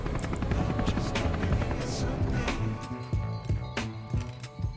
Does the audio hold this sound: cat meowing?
no